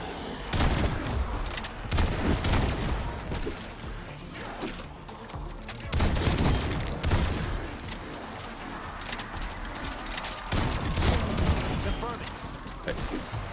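Rapid bursts of video game gunfire crackle in repeated volleys over steady background game noise, loud and close, with a player's voice talking throughout.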